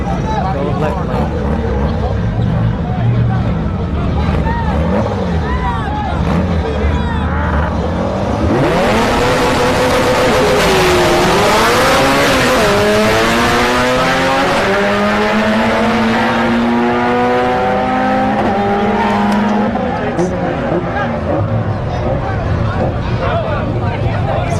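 Drag cars, a turbo and a blower car side by side, launch and accelerate down a no-prep strip at Orlando Speed World: a loud rising engine roar with climbing pitch over crowd noise and commentary.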